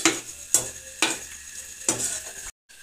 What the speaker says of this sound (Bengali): সরিষার তেল একটু গেজা হয়, একটু গেজা হচ্ছে।